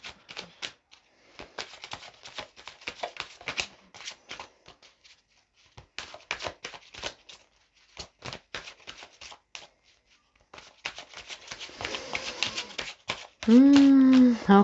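Tarot cards are shuffled by hand in bursts of soft, crisp riffling and slapping, broken by short pauses, and a voice speaks briefly at the end.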